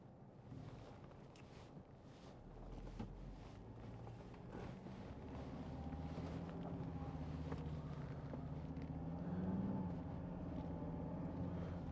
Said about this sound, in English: Just wait for this car to go by.